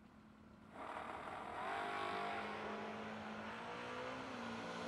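At a drag race, a Camaro launches hard and accelerates, its engine surging from idle into a loud sustained roar with rising pitch, heard from a distance.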